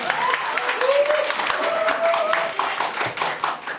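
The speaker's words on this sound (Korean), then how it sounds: "박수 치셔야 됩니다." Audience at a Korean political party leadership debate clapping in a dense, fairly close burst of hand claps, with voices talking over them.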